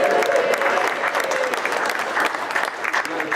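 Wedding guests applauding and cheering at the start of a wedding speech, a loud, dense burst of clapping with whoops from the crowd filling the room.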